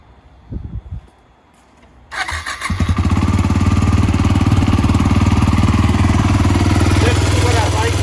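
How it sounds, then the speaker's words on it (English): A used motorcycle engine cranks and catches after a few clicks and knocks, then settles into a loud, steady, close idle that continues to the end. "So here we're about to start things up."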